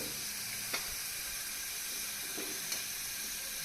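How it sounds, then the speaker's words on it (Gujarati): Cumin seeds and asafoetida sizzle in hot oil in a pan, a steady close hiss and crackle with a couple of small sharp pops, no voices. "જીરું સંતળાઈ જાય એટલે આપણે એમાં હિંગ નાખીશું"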